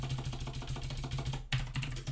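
Steady clatter of keys on a computer keyboard, fast irregular keystrokes continuing throughout at close range, with a brief louder burst of clicks near the end.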